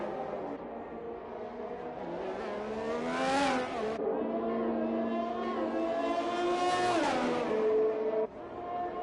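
A Ferrari Formula 1 car in a racing video game revs hard around Monaco, its high engine note rising and falling through quick upshifts and a few sharp cuts, loud and close.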